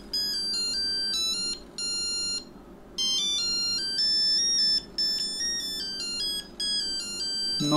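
An old Nokia mobile phone plays its electronic ringtone, bright beeping melodic phrases repeating in bursts with short gaps, loud and close with nothing else over it.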